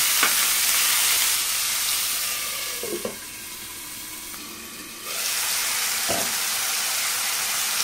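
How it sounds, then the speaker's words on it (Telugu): Washed mutton sizzling and being stirred in a hot pan as its water cooks off, a loud steady frying hiss with a few scraping stirs and a brief quieter dip midway. "మటన్ అంతా ఇలా బాగా కలుపుకొని మటన్లోని నీరంతా ఇంకిపోయే వరకు ఉడికించుకోవాలి"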